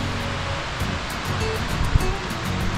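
Ocean surf rolling onto the beach at San Felipe, Mexico, a steady broad wash of breaking waves close by, continuous with no talk.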